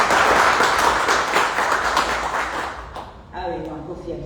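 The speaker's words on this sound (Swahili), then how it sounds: "Naomba tuwapigie makofi." Energetic audience applause at an event, loud dense clapping that fades over a few seconds before a voice starts speaking.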